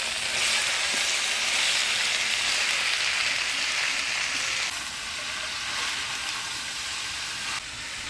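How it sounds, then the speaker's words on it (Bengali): Chopped bottle gourd hitting a pan of hot spice paste with green chilli and bay leaf, giving a loud, steady sizzle and fry that eases slightly partway through, with no talking. "এবার কাটিয়ে রাখা লাউ দিয়ে দিচ্ছি।"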